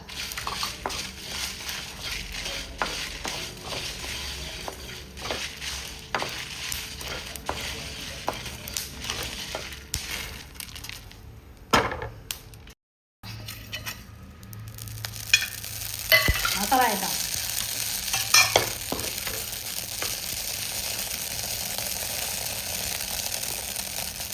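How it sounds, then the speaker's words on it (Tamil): Coriander seeds and dried chillies are dry-roasted in a pan for a village-style country chicken rasam, a steady dry rustling sizzle with scattered scrapes and clinks of stirring, briefly dropping out midway before resuming. "மல்லி வறுத்துக்கிறேன் மல்லி மல்லி மிளகாய்"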